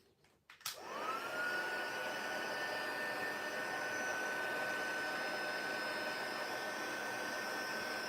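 A heat tool blasts hot air onto embossing powder on a stamped card, starting with a brief click and then settling into a steady, close, whooshing whine that continues without a break.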